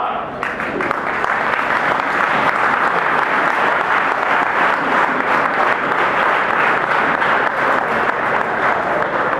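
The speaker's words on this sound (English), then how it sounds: "can we stand up and clap and give a thunderous welcome to the guest of honor" A standing crowd at a high school event gives loud, thunderous applause for the guest of honor, a dense unbroken clapping that stays at a steady high level throughout.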